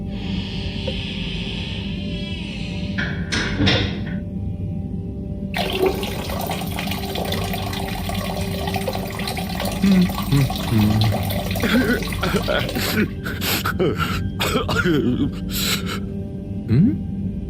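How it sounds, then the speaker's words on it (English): Shower water in a game bathroom runs and sputters unevenly, a steady rushing spray broken by gurgles and brief bursts, with a faint voice nearby. "Sounds like the shower is playing up."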